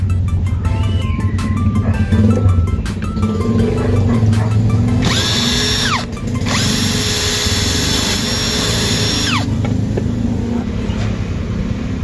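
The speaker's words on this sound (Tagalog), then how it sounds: "yung kita nyo naman, ang bilis makabutas ng tiles" A TANZU brushless cordless drill bores through a piece of broken bathroom tile, a loud close whine that rises sharply in pitch as the motor spins up, holds for several seconds, then winds down, with grinding contact noise beneath.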